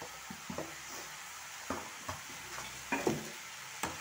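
Spinach cooks with spices in a pan for an aloo, palak and baingan sabzi, giving a soft, continuous sizzle broken by several sharp stirring scrapes and clatters.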